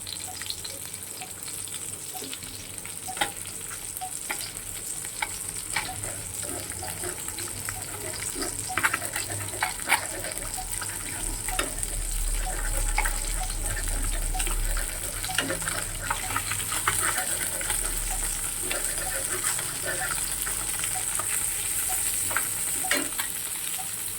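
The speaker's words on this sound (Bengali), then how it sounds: "পাশে একটু কালো জিরে ফোড়ন দিয়ে দিলাম।" Lightly fried fish sizzles in a pan with a nigella seed tempering, a steady close frying hiss with scattered pops, crackles and utensil clinks that swell slightly midway, continuing without talk.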